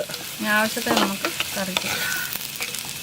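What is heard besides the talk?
onions sautéing with salt in a pan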